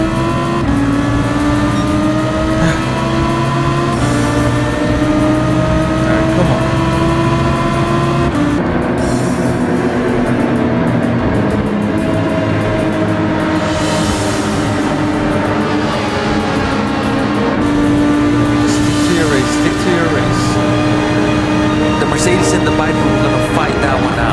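Race car engines in a racing video game, including a Mercedes, a Viper and a Ford GT, roar loudly and continuously with shifting revs and overlapping whines while a voice talks over them.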